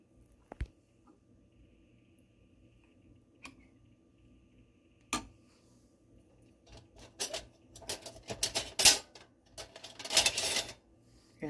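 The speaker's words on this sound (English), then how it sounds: "And I'm just trying to open up the can." Opening a can of diced tomatoes for tortilla soup, heard as a quiet stretch of faint ticks that builds into a run of close metallic clicks, scrapes and clatters from the can opener toward the end.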